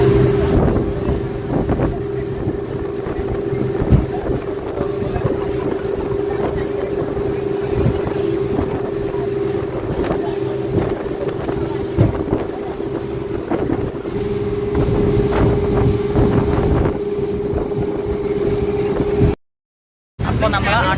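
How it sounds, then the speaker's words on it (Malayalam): Motorboat ride to Coral Island in Pattaya, with a steady loud engine drone and heavy wind buffeting throughout, and speech faintly under the roar. "നമ്മുടെ ബോട്ട് വന്നു കേട്ടോ. നമ്മൾ ഇനി അതിൽ കയറാൻ പോവാ."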